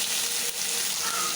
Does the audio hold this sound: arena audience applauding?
no